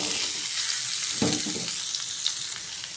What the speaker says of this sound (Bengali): পটল আলুটি এখন ভেজে নিব।